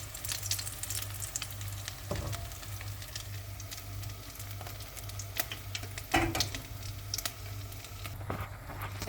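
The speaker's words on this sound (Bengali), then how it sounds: "এটা হচ্ছে ফুলকপি ভাজি করতেছি" Cauliflower pieces fry in a pan, a soft continuous sizzle with occasional crackles and stirring clatters, heard close and quiet with no talk.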